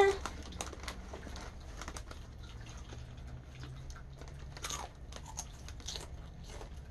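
A crunchy chili lemon snack is bitten and chewed up close, with repeated crisp crunches and wet chewing sounds in an uneven rhythm and no talk over them.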